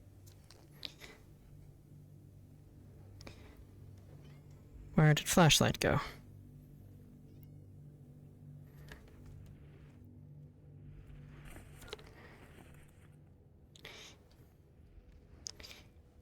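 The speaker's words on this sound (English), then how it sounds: "Hello, cat." A cat in the VR game Into the Radius gives one short, bright meow, clear above a quiet backdrop of faint clicks and rustling, with a person talking elsewhere in the scene.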